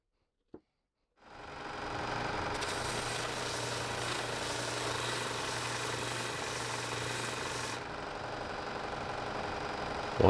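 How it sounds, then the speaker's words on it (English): Belt sander running on wood filled with glue and sawdust, a steady droning whir after a brief click, with a harsher grinding band midway as the workpiece is pressed on, then easing off. "Pushed into those holes, then sanded again on the belt sander."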